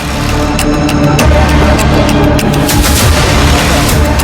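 Dense, continuous rumbling blasts with repeated sharp cracks, loud and sustained throughout, from a car bomb explosion near the Red Fort in Delhi.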